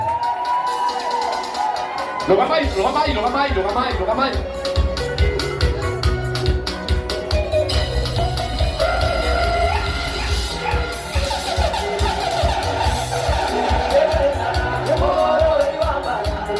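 A crowd at a gathering cheers, whoops and shouts loudly and continuously, with a dense wash of voices and a musical backdrop.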